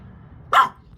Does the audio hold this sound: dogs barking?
yes